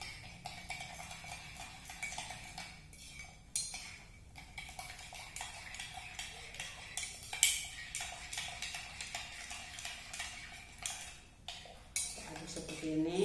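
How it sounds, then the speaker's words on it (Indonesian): A utensil stirs bread dough ingredients with sugar in a bowl, producing repeated close scraping and clinking strokes against the bowl in a steady rhythm. "Kita aduk."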